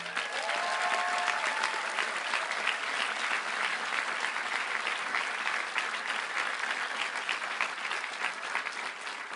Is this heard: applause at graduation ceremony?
yes